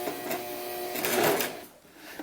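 A hand-cranked sewing machine stitches a doll's sunsuit over elastic, a few seconds of close, rapid mechanical whirring and clicking that slows and stops near the end, with no talking.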